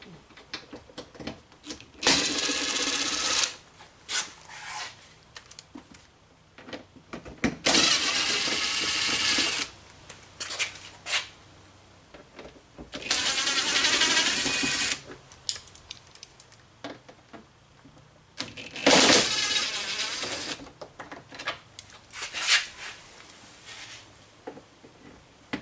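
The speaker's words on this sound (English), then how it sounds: "I'm going to use the impact wrench to get them off" Impact wrench zipping bolts off a 2021 Yamaha Wolverine X2 XT-R 850 side-by-side, in several loud, separate bursts of a few seconds each, with quiet gaps between them and no talking.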